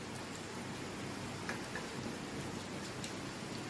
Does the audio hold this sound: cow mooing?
no